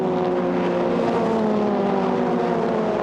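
BRDC Formula 4 race car at Silverstone through Club Corner, a loud, steady high-pitched engine whine with rising harmonics as speed builds, held continuously for the full stretch with no talk over it.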